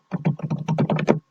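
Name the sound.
computer keyboard typing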